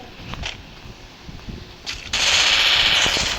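Gunfire in the Free Fire video game: a couple of faint, isolated shots, then a loud rapid burst of automatic fire that keeps rattling steadily to the end.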